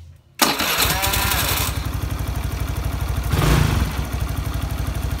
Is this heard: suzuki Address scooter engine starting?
yes